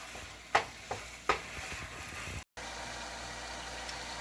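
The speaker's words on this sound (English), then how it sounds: "So you want to do this constantly stirring until your meat has browned" Ground meat browns in a hot pan with a steady low sizzle, broken by a few sharp scrapes and clicks of stirring near the start before the frying settles into a soft continuous hiss.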